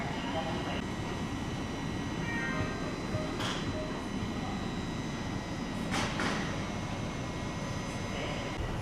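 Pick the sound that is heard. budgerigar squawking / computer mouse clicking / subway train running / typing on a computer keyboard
subway train running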